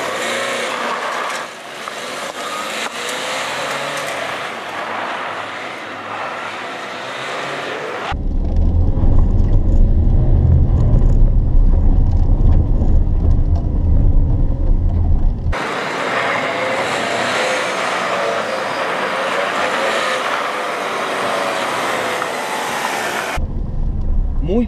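A Peugeot 208 with a 1.6 engine and five-speed manual gearbox runs a slalom test, its engine and road rumble swelling loud and close in the middle section before settling back to a steadier drone.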